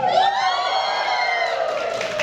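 A crowd at a PCM year-end gathering shouts a cheer together on cue, a loud sustained chorus of voices with whoops lasting about two seconds.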